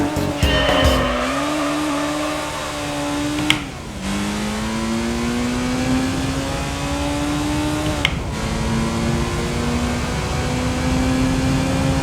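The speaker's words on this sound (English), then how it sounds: "rev the engine." A race car engine in Gran Turismo 3 revs loud and steady, its pitch climbing through the gears and dipping briefly at each shift, with tire squeal over the continuous drone.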